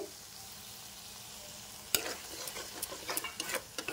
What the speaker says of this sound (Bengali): এইবারে মশলাটা ফুটবে, ফুটুক